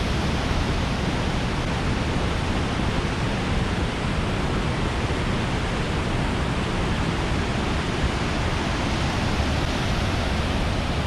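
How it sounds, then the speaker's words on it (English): Cane Creek Falls, a waterfall in Fall Creek Falls State Park, pours in a loud, steady broadband roar that holds unchanged throughout, close by and with no voices over it. "This is Cane Creek Falls."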